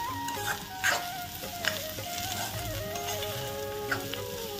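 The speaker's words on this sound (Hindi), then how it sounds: "अब ये मिक्स करना है अच्छा से, थोड़ा देर और भूंजना है ना।" Potatoes with spices, salt and coriander leaves sizzle as they are stir-fried in a pan for potato chutney, a steady frying hiss with occasional scrapes of stirring, close and moderately loud, no talk.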